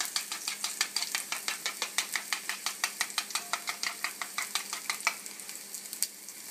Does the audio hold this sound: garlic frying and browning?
yes